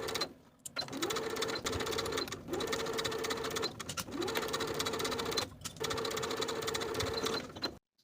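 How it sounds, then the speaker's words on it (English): A sewing machine edge stitches around a folded blouse sleeve hem, humming in steady, even runs broken by several short stops, close and clear with no talk. "I'm going to edge stitch close to that folded edge all around the bottom of the sleeve"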